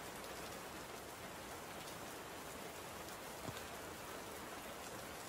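Steady rain falls without a break, a dense, even hiss of drops on surfaces, close and continuous with no voices over it.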